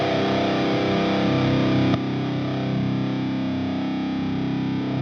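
A heavily distorted electric guitar chord through a Wampler Dracarys pedal rings out, then the level drops noticeably about two seconds in as the tight switch engages, and the sustained crunchy tone continues quieter.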